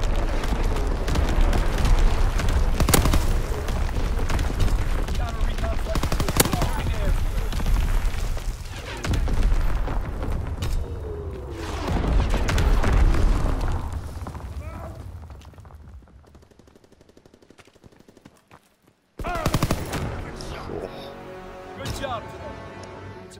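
Artillery fire and explosions pound a target in Call of Duty: WWII multiplayer, heavy booms and bursts rolling loudly through the first fifteen seconds before fading, with a sharp blast near the end, under players' chatter.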